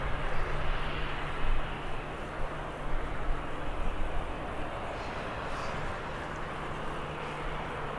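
A Ryanair airliner arriving from Malaga at Birmingham Airport under cloud cover makes a faint, steady engine rumble with a low hum, heard from a distance.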